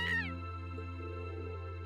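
A cat meows once, a short rising-and-falling cry, close and clear over a steady musical background in the video game Trails of Cold Steel.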